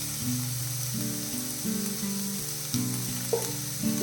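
Sliced onions sautéing in a pan for Mughlai chicken handi curry, a steady close sizzle with a few stirring scrapes, under a droning melodic music bed.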